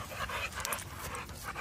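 A calm, muscular bully-breed stud dog pants steadily at close range, a run of soft rhythmic breaths with no one speaking.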